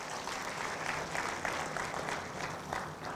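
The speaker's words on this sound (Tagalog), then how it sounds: "Isang malakas na palakpak kay Lord." A congregation at Family In Christ Church claps together during a sermon, a dense, continuous burst of applause in a large room, moderately loud and without voices.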